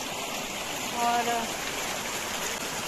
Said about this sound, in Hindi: गधेरा का पानी थोड़ा सा बढ़ गया है क्योंकि कल रात से बारिश थी